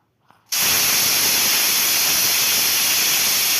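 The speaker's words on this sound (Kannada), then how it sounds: "ನೋಡಿ, 1 ವಿಷಲ್ ಆಯಿತು" A pressure cooker cooking radish sambar lets out its whistle: a sudden, loud, steady steam hiss that starts abruptly and continues unbroken, close by and alone.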